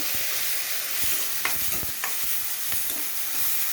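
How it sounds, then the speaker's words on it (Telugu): Tomatoes frying in a pan with salt and turmeric, giving a dense continuous sizzle nearby, broken by a few sharp scraping stirs. "ఎందుకంటే సాల్ట్ వేస్తే తొందరగా వేగిపోతాయి టమోటాలు"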